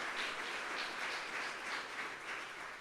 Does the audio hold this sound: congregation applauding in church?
yes